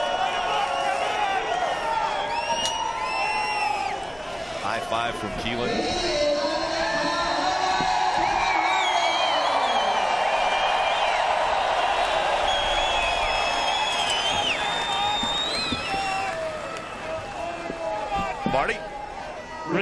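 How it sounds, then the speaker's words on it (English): A NASCAR crowd at Michigan's victory lane cheers and whoops in a steady, distant roar that swells in the middle, under continuous announcer commentary. "He makes it to victory lane, and listen to the crowd."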